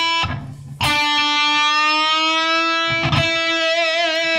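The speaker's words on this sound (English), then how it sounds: "I'm just going to push that string up to where this note sounds like this note." An electric guitar with a Floyd Rose bridge is picked and a string is pushed up in a bend, the sustained distorted note ringing clearly before a second pick sounds near the end.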